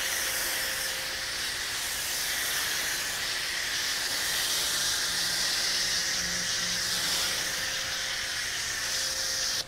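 An AutoZone foam cannon on an electric pressure washer sprays soap in a steady, close, loud hiss under a constant motor whine, running unbroken for the whole stretch.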